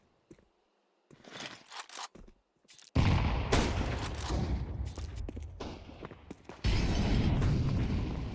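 A grenade blast in a Counter-Strike esports match: a short spread of gunfire crackle, then a heavy boom that keeps a loud, dense rumble of explosion and game action running for several seconds, with a second loud surge near the end.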